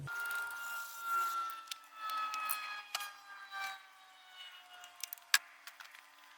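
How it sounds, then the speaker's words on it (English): Sanding a car headlight lens by hand during restoration, a steady rasping scrape in uneven strokes with a few sharper clicks near the end, fairly close and moderate in level with no talk. "Just be careful not to sand the paint."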